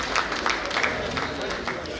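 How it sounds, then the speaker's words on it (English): Banquet dinner audience at a Rotary district town hall applauding, a steady wash of many hands clapping with crowd murmur and voices mixed in. "Round of applause for them, please."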